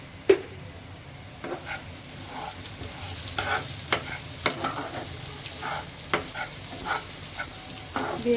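Ingredients for bhuna khichuri frying in a pan with salt, a steady close sizzle broken by repeated scraping stirs and light clinks of the spoon against the pan.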